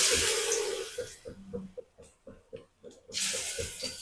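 Bondas of batter are dropped into hot oil on a medium flame, giving a loud sizzle that drops away into soft, spaced pops and crackles before the frying hiss swells up again. No one speaks.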